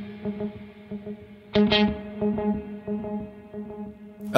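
Horizon Devices Flux Echo delay pedal on electric guitar, set for a degraded analog-style repeat: picked notes ring out and smear into soft, slightly dulled echoes that trail behind each phrase, steady and close with no voices.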